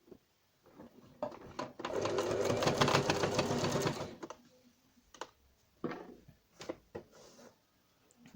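A sewing machine stitches a seam on a t-shirt top in one steady rattling run of about two seconds, followed by scattered clicks and taps of fabric handling.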